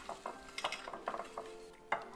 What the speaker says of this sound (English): And then we're gonna just roll them around and toss them in all these crumbs.